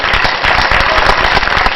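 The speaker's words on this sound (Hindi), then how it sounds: "तो फिर पूरे सदन की तालियां चाहता हूं" A full hall audience at a Madhya Pradesh festival stage event breaks into loud, dense applause, many hands clapping together in a continuous close roar with no pauses.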